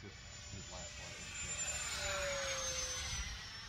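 E-flite Habu SS radio-controlled jet with thrust vectoring performing flat spins and inverted moves, giving a steady whooshing ducted-fan whine with a rising and falling pitch, heard at moderate distance with people talking.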